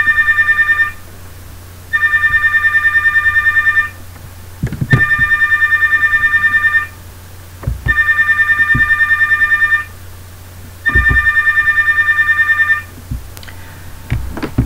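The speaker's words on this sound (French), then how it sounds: "je vais répondre au téléphone s'il vous plaît" A telephone rings in repeated double bursts, five rings spaced about two seconds apart, loud and electronic over a steady low hum, with small knocks and clicks between rings and no talking.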